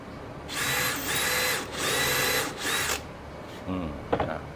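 A power drill bores holes in wood for a miter saw table, running in three loud sustained bursts with brief pauses between, then winding down, with a few faint knocks at the end.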